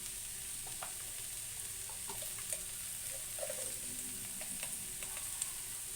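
Turmeric, chili powder and salt stirred into aloo kurma in a pan, soft continuous sizzling with scattered scrapes and taps of a spoon against the pan, close but quiet.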